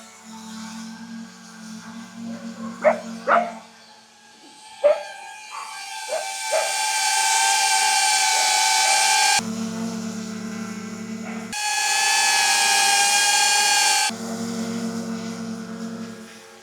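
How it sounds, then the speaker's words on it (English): High-pitched propeller whine from hovering DJI Avata 360 camera drones, steady tones that switch abruptly between two pitches, with a few soft knocks near the start. "All I can hear is the whine of the Avata 360"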